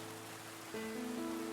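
Steady, soft rain falling and pattering on a surface, a continuous gentle hiss with a faint low hum, with no talk.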